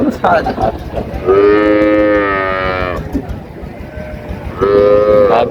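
Cattle moo loudly at a busy livestock market, the Raniganj haat in Dinajpur, with one long, close call lasting nearly two seconds, then a second shorter low call near the end, over background crowd noise.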